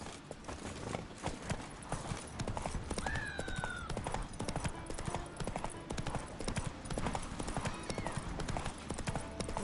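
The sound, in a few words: horse galloping hooves in the video game Witcher 3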